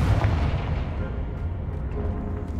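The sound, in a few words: Confringo fire spell blast in Hogwarts Legacy video game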